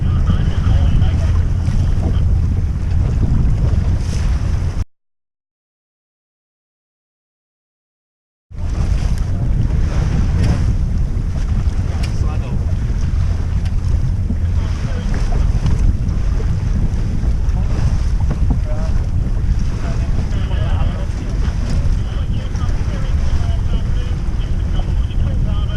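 Sailboat under way on the English Channel, with steady broadband wind buffeting the microphone and the rush of water along the hull, loud and continuous apart from a brief dropout early on.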